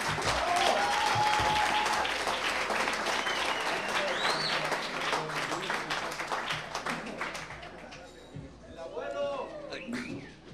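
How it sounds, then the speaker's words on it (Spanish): Loud audience applause and cheering at Rojo Café during a live music show, a dense wash of clapping that tapers off as voices come through near the end. "por favor, un aplauso, pero fuerte"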